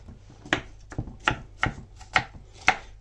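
Knife chopping apple into small pieces on a board for a yogurt fruit salad, five or six crisp, evenly spaced cuts ringing out near and clear over a low background hum.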